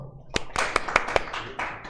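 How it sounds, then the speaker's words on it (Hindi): A few students applaud in a taxation classroom, giving about half a dozen sharp, uneven hand claps at close range over a low room murmur. "बजाओ ताली बजाओ।"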